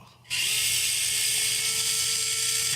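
A small electric driver whirs steadily as it backs screws out of an RC crawler, a close, high-pitched motor whine that starts abruptly and holds without a break.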